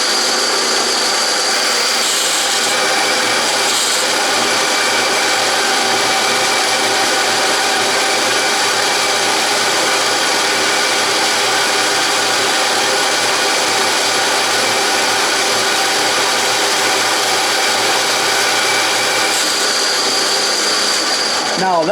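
Saw blade cutting slowly through 3/4 inch thick hot rolled steel, a loud, steady grinding whine that runs unbroken for the full length at a constant pitch.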